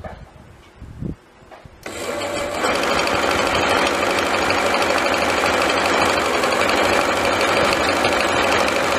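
After a brief quiet start with a couple of soft knocks, a sewing machine fitted with a stretch-fabric presser foot and fresh needle runs steadily, stitching Lycra with a loud, continuous mechanical whir and rapid needle clatter.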